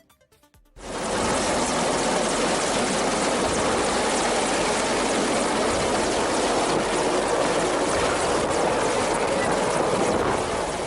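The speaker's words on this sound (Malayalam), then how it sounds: "രാവിലെ 8:30യോടെയാണ് രാഷ്ട്രപതി ദ്രൗപദി മുർമുവുമായി ഹെലികോപ്റ്റർ പത്തനംതിട്ട പ്രമാടം ഗ്രൗണ്ടിൽ ഇറങ്ങിയത്." A helicopter carrying the President lands at Pramadam ground in Pathanamthitta, where its tyres sank into fresh concrete. After a brief quiet start, a loud, continuous, close rotor and engine roar holds steadily throughout.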